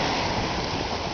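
A sailboat on a solo ocean passage surfs down a wave: a steady, broad rush of water and wind along the hull, loud and continuous, with no voices.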